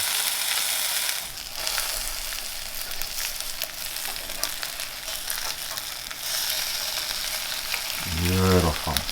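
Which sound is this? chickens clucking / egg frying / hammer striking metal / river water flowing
egg frying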